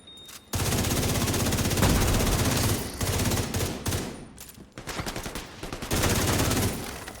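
Video game gunfire while shooting enemies: dense, loud automatic bursts in several long volleys separated by brief gaps, with no talking.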